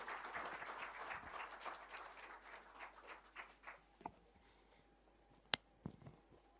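Students in a school hall applaud to welcome Dr. Gurpreet Kaur, wife of Chief Minister Bhagwant Mann. The fairly faint, distant clapping thins out and fades, leaving a few isolated claps and knocks at the end.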